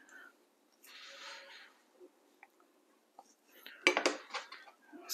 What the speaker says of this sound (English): You'll want to cut not all the way through, but just cut through the layer of meat, almost down to the skin.